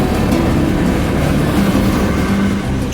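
A BNSF manifest freight train rolls past at night in Crowley, Texas, a loud continuous rumble of wagons and rail noise close by, without talk.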